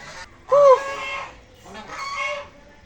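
A duck at a university gives two loud nasal honking quacks close by, a short one and then a longer one, with quiet surroundings and no talking.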